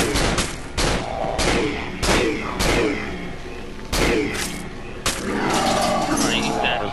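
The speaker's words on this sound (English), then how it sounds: "I think we just need to shoot a little faster" Gunfire in the horror video game Cry of Fear: loud, repeated shots come in an uneven string, each a sharp blast with a short tail, while players talk over the action.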